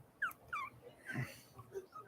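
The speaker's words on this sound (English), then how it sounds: "Oh, the puppy wants me too." Puppy letting out a few high, thin whimpers and yips, close and fairly soft, spaced across a couple of seconds with light breathing and faint room noise between them.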